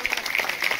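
Audience clapping along at a devotional discourse, a short burst of several hands clapping in a loose rhythm, moderately loud, with faint voices mixed in behind.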